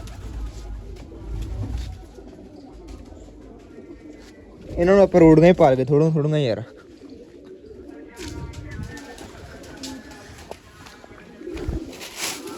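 Pigeons coo loudly in a short burst midway, rippling and throaty, with someone talking before and after under light outdoor background noise.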